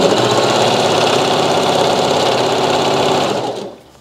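A domestic sewing machine fitted with a 75/11 needle and a J foot runs steadily as it stitches a double-layer satin bonnet, a loud, even mechanical whir that holds for over three seconds before quickly slowing to a stop.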